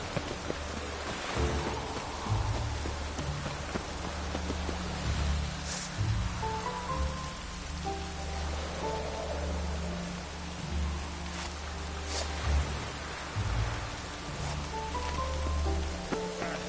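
Steady rain falls in The Witcher 3, a soft continuous hiss over a low hum, with faint game music tones, fairly quiet and even throughout.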